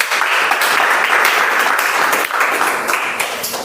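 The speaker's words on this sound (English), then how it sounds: "Can we have a round of applause for him, please?" A Toastmasters meeting audience applauds a speaker with loud, dense, continuous clapping that fills the room evenly from start to finish.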